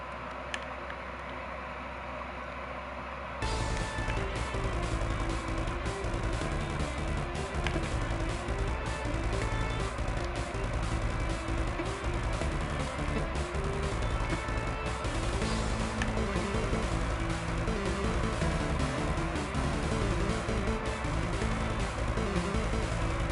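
An 8-bit chiptune remix plays loud and dense, opening with a thinner quieter intro before the full busy arrangement kicks in with steady driving beats, no voices present.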